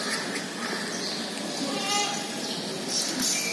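Goats bleat amid a busy crowd at a large livestock market selling goats for sale, with continuous murmur and scattered animal calls throughout, fairly loud and steady.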